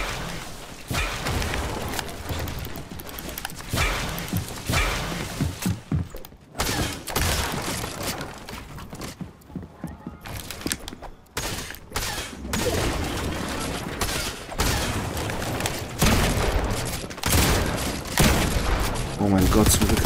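Gunfire in Fortnite, with dense bursts of shots and impacts mixed with thuds and game noise, partly under talking voices.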